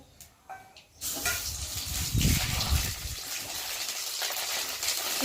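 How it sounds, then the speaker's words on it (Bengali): Vetkul leaf paste poured into a hot pan of oil lands with a wet splash, then breaks into a loud, close, steady sizzle that continues with no speech. "এখন গরম হয়ে গেছে আর আমি এখন এর মধ্যে বাটাটাকে ঢেলে দেবো।"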